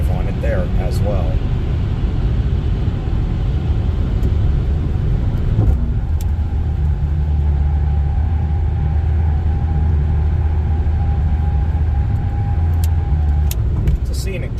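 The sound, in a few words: car driving on snowy I-90 highway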